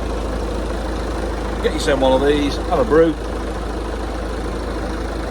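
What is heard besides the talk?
Ford Focus Duratorq diesel engine idling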